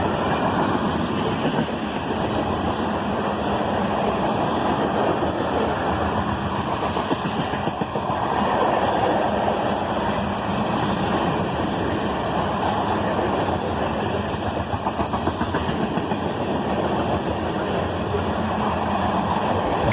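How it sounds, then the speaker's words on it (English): A very long freight train of ethanol tank cars rolls past, a loud, steady rumble and rushing roar of wheels on rails that holds constant without pause. "This was one heck of a giant train."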